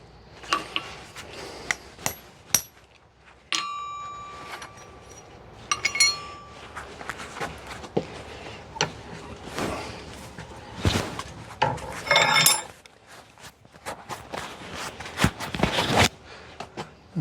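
Metal taps and clinks on a forged Spanish colonial spur being riveted, sharp irregular strikes near and loud, mixed with handling clatter and pauses between blows.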